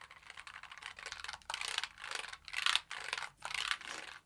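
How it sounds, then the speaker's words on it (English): Typing on a compact 75% mechanical keyboard with brown tactile switches and RGB lighting, a steady close run of clacky keystrokes in several bursts with short pauses, no voices. "a mechanical keyboard. I went with a config of brown switches for a nice tactile feel."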